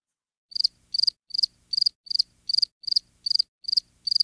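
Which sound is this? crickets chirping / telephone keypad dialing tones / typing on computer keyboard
crickets chirping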